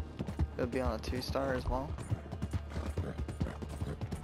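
Horse hooves clip-clop steadily in Red Dead Redemption 2 while a rider speaks over the game audio. The hoofbeats are soft and regular, sitting under the voice.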